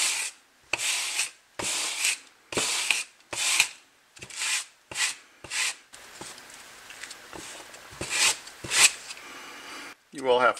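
Sandpaper rasping across landscape fabric to shred it for a model ship, in repeated rhythmic strokes of scratchy rubbing, close and fairly loud, followed by a quicker burst of shorter scrapes.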